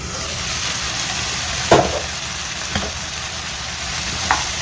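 Vegetables simmering with tomato paste in a pan give off a steady, close hiss of sizzling, and a few sharp knocks ring out as a utensil stirs them against the pan.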